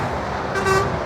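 A truck's air horn sounds a short tonal blast midway through, over steady roadway traffic noise beside the M5 motorway.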